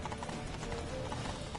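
Horse hooves clip-clopping in The Witcher 3, a quick run of rhythmic hoof beats over a low rumbling game background.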